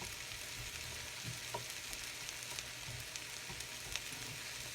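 Shrimp par-cooking in a pan for moo shu, a continuous, even frying sizzle with faint crackles and occasional small pops, no talk.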